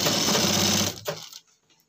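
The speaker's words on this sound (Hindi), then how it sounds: "यहाँ पर इससे मिलाएंगे ठीक है और सिलाई लगा देंगे" A sewing machine stitches a pocket onto a pajama in one loud, close, fast whirring run that lasts under a second, then stops with a couple of faint clicks.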